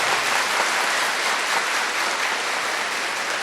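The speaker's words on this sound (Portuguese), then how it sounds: "palmas para a Virgem Maria" Catholic congregation applauding the Virgin Mary during a sermon, dense, loud, continuous clapping heard alone for a few seconds.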